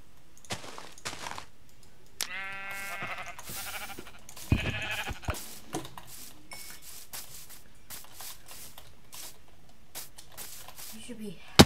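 Sheep in the Minecraft video game bleat in a short harmonic call early on, with further brief bleats scattered among game clicks and footsteps while a person talks over the top.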